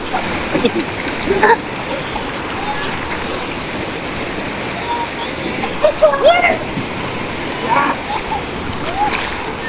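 Water in a swimming pool churns with a constant splashing wash, broken by a few sharper splashes and brief shouts or calls from people nearby.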